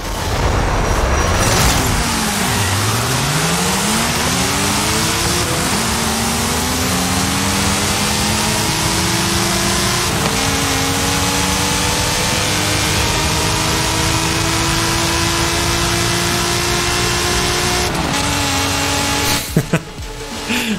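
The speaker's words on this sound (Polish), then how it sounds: "Ten start jeszcze nie jest taki dobry, ale i tak jest niezły jak na samochód z napędem na tył" A NASCAR stock car with rear-wheel drive launches at the start of a drag race in Forza Horizon 5, its engine roaring loud and close and climbing through repeated gear shifts for about twenty seconds, with a brief change near the end.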